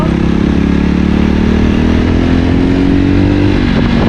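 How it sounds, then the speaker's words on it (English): A 2020 Jawa Perak single-cylinder motorcycle engine runs loud and near, a steady throbbing drone that shifts slightly in pitch toward the end. "And it's a single cylinder engine"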